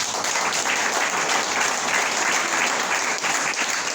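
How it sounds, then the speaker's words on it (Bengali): A crowd at a trainers' gathering in Cox's Bazar, Bangladesh, applauds with dense, continuous clapping that stays loud and even throughout. "সবাই একটা করতালি দেন ওদের জন্য।"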